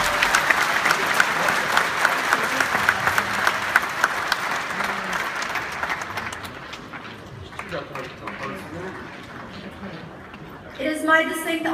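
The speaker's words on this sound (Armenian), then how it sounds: "Շատ բարձր ծափորում ենք։" An awards ceremony audience applauds loudly, a thick, sustained roar of clapping that gradually thins and fades, followed by voices at the end.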